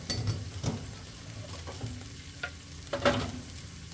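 Food fries on a Blackstone griddle with a soft continuous sizzle, broken by several scraping and stirring strokes of a spatula at irregular intervals, close and moderately loud, with no talk.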